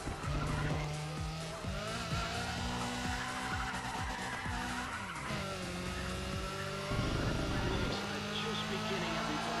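A racing car in Need for Speed ProStreet brakes late with sustained tire squeal and skidding over a loud, shifting engine note, continuous and close, with speech mixed in.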